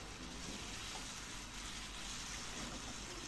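Ingredients sauté in a pan over high heat, giving a steady, dense sizzle and hiss that holds at an even level throughout, with no voices over it.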